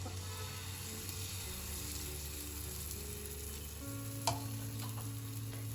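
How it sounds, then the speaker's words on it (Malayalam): Pancake batter poured into a pan with butter, sizzling softly and steadily over low flame, faint and close, with a light clink partway through and no talk. "ആൻഡ് കുറച്ചായിട്ട് പാനിലേക്ക് അങ്ങ് ഒഴിച്ചു കൊടുക്കുക."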